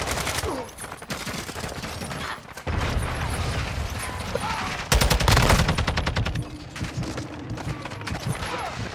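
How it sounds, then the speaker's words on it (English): Sustained automatic turret machine-gun fire in Call of Duty: Modern Warfare II, loud and close, with dense rapid bursts and brief gaps, rattling mechanical clatter throughout. "The turret is on, we have to run."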